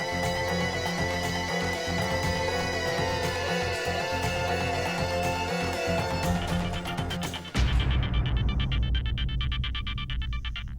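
A mobile phone rings with a repeating electronic tune, set within a Hindi TV drama scene, then gives way to a lower, noisier passage of music or background sound.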